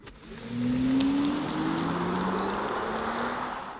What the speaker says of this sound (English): Startup sound, yeah, I just want to show that to you one more time.